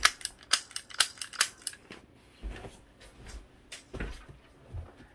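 A BB gun is reloaded close up: a quick run of sharp plastic clicks and snaps, then softer scattered clacks and handling knocks, with no talking.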